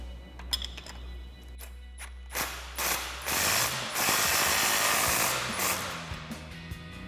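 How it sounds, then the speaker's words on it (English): A ratchet wrench with a 19mm socket tightening bolts on a 2014-2021 RAM 2500 dual steering stabilizer kit: a few close clicking strokes, then a rapid, continuous ratcheting whir that runs for several seconds. "grab a 19mm wrench and a 19mm socket. Tighten these down."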